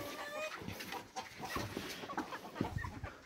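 Hens cluck in short, irregular bursts close by, with scattered farmyard noise between the calls.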